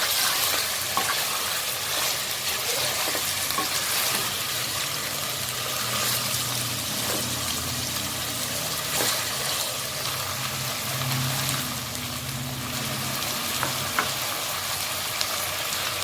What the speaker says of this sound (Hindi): दो मिनट हम इसे जिंजर गार्लिक पेस्ट के साथ भून लेंगे।